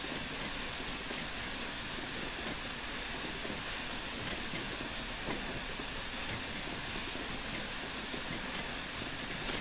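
Steady, loud hiss of steam from the Flying Scotsman locomotive on a London to Brighton run, a continuous broadband rush with faint rail clatter beneath it and no talking.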